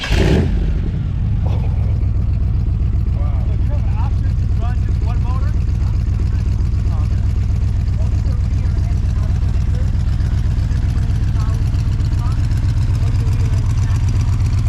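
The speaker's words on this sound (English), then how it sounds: "That's just the rear engine running." The rear engine of a twin-engine Yugo starts with a burst and then idles loudly and steadily with a deep throbbing rumble, voices faintly audible underneath.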